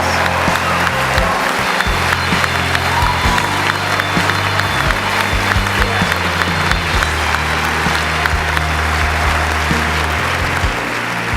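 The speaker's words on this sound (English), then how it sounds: "give yourself a round of applause" Graduates of the class of 2017 clap and cheer at a commencement ceremony, a loud, dense wash of applause that carries steadily through the whole stretch, with a low musical hum underneath and no clear speech.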